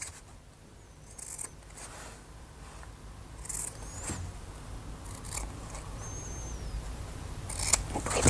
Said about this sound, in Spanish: Cortaremos las esquinas para que nos quede mejor doblado.